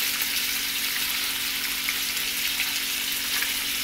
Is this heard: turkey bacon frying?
yes